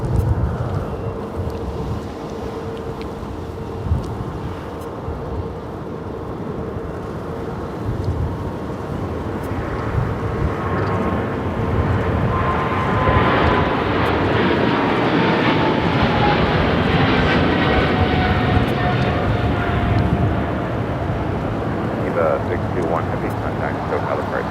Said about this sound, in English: That is EVA 621 taking off to Taipei on the 777 freighter.